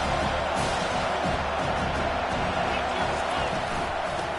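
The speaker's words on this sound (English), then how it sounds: "Decibels rising as the crowd gets behind this defense on 3rd down." Football stadium crowd roaring continuously as fans rally behind the defense on third down, a dense, sustained wall of noise throughout.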